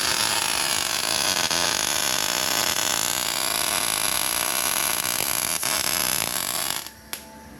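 A power cutting tool whirs loudly and steadily while slicing through the original steel lower control arm mount on a third-generation Toyota Tacoma, running continuously up close before cutting off near the end with a brief clank.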